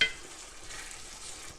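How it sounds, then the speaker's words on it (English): Sauce bubbling and sizzling in a hot pan for a Cajun chicken sauce picante, a steady, close hiss of simmering liquid with soft frying crackle and no talking. "As you can tell, they're already boiling."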